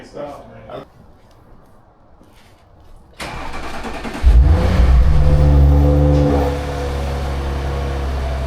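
After some quiet shuffling, an Audi RS5 Sportback engine cranks and fires, revs up loudly with a deep rumble, then settles into a steady idle.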